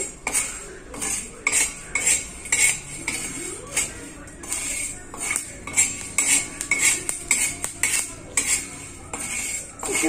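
Grains dry-roasting in a pan crackle and rattle, mixed with rhythmic metal scraping and clanking of a spoon stirring against the pan, repeated strokes close and fairly loud throughout.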